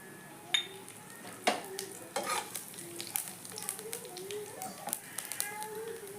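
Kalonji seeds fry in leftover oil in a wok used for okra, producing a quiet, crackling sizzle with scattered light clinks and scrapes of a spatula.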